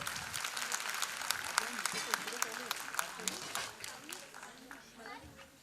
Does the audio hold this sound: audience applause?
yes